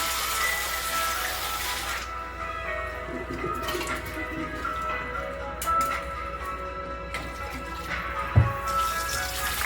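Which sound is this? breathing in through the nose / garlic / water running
water running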